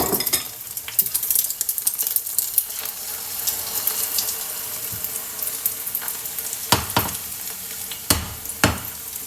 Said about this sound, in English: So you put the scrambled egg in.